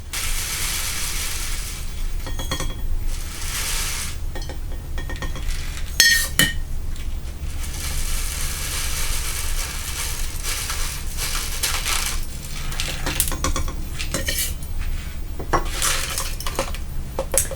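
Dry sprouting seeds are poured into a small glass jar, a loud, gritty rattling patter with sharp clinks against the glass that comes in repeated bursts, alone without voices.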